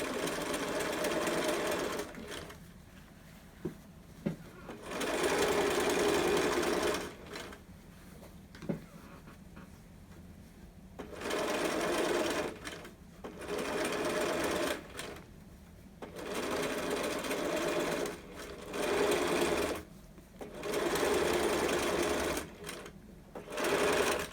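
A sewing machine stitches a fabric mask in short, repeated bursts of rapid needle chatter, each run separated by brief pauses as the work is pivoted and turned, close and clear with no talk.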